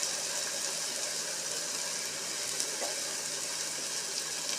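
Sliced onions frying in a pan for dry prawn thokku, a steady even sizzle that holds at a constant moderate level throughout, with no talking.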